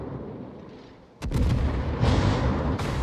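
In World of Warships, naval guns fire at the battleship Yamato with a sudden heavy boom, followed by a rumbling roll of blasts and a second, smaller burst of gunfire.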